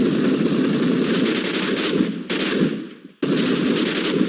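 Rapid automatic gunfire in the mobile game PUBG Mobile, a dense continuous burst of shots that breaks off briefly twice before resuming, loud and close.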